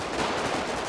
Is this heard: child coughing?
no